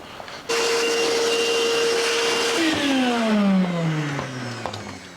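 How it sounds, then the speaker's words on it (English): A powered blower starts abruptly and runs loud and close while clearing debris from a VW Transporter 4motion grille, its whine holding steady, then sliding down in pitch as it winds off. "I'm going to get the blower out and just get rid of all of this black nonsense"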